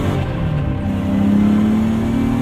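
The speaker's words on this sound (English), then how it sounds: "Shift that dogleg transmission, hear the S14 scream straight off the showroom floor." A BMW E30 M3 with its S14 engine holds a loud, steady high-pitched drone that climbs slightly in pitch, a close, sustained mechanical howl with no talking.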